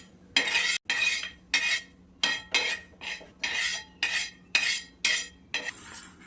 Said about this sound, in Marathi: हे तीळ तीळ खसखस हा खडा मसा मसाला पण भाजून घ्यायचा ह्याच्यात पण तेल नाही टाकायचं